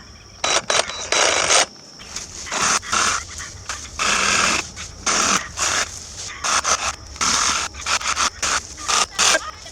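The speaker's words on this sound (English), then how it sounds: "just ignore the dog barking" A dog barks repeatedly in irregular bursts, fairly close, with a broad hiss of a reciprocating saw running underneath.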